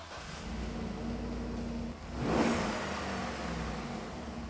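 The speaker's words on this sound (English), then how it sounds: "As you just heard, you don't hear a lot of airflow with this stock system on here." A truck engine with a stock air intake revs up once and settles back, the mid-pitched engine note swelling briefly above a steady idle hum, heard close and with no talking.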